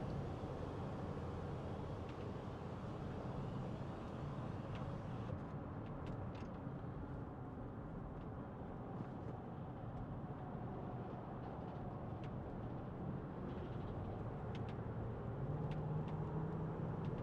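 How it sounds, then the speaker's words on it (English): 2014 Range Rover Vogue SE with the SD V8 diesel and automatic 4WD cruising at 70 mph, a steady low road and cabin drone with faint wind hiss, continuous and even throughout with no speech. "Listen to that, effortless, 70 miles an hour."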